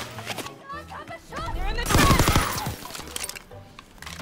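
Shotgun blasts in a video game crash out in a loud cluster midway, with a person talking and exclaiming before and after.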